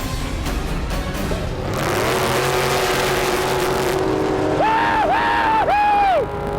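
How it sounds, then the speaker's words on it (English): An 800 horsepower car launching down a quarter-mile drag strip, a loud engine roar climbing steadily in pitch, then sharp rising whines through several quick gear changes, close and intense. "When the car launches, make sure you're ready for it."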